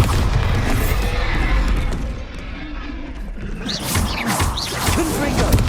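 A Bombarda spell blast goes off in Hogwarts Legacy, with a loud low boom and rumble at first that fades into softer crashing effects, while voices and spell sounds overlap in the fight.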